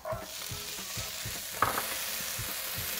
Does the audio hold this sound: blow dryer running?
no